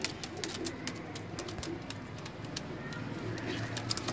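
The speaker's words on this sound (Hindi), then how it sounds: "अखा, ए गोल्डन कबूतर है" Golden pigeons cooing in soft repeated low calls amid a busy background of chirps and ambient noise, fairly close by.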